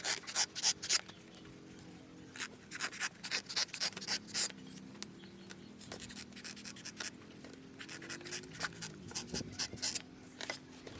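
A cobbler marks leather with a sketch pen, making quick, close, scratchy strokes in short rhythmic bursts with brief pauses, quiet and without talking.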